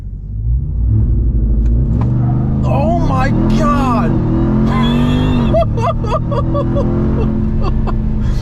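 Ram TRX pickup truck launching hard, its engine roaring loudly and rising in pitch through several climbing sweeps close by, with an excited voice exclaiming over it.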